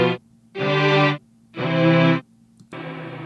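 Dry Mellotron tones straight from an XLR output play as three sustained, bright chords separated by short silences, each with a soft attack and even hold, followed by a fourth chord starting at the end.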